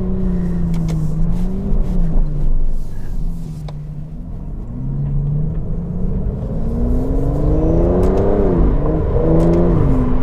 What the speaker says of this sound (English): I like the pops and bangs.